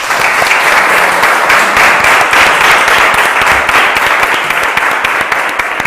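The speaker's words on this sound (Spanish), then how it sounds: "a quien les pido un fuertísimo aplauso" A loud, vigorous round of applause from an audience welcoming invited guests at a public interview event, dense clapping with a few sharper individual claps standing out, sustained for several seconds.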